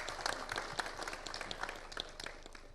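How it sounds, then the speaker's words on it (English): Audience applause during a panel discussion on decarbonizing India's manufacturing sector: a steady wash of many hands clapping at moderate distance, fairly even throughout with scattered sharper claps, no voices over it. "A big round of applause for"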